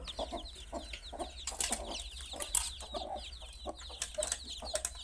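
Eight young chickens on a farm in Pondicherry peep and chirp close by in quick, overlapping high calls that continue throughout over a low steady hum, with no talking.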